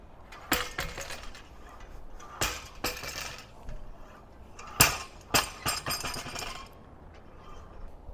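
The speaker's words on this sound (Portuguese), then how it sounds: "De cair os golpes da sondagem SPT, no qual aquele martelo, aquele peso, tem 65 quilos, ele vai cair a uma altura de 75 centímetros" A 65 kg SPT soil-sounding hammer drops from 75 cm onto a drill rod, landing as a series of sharp, loud metallic impacts at uneven intervals with ringing clatter between them.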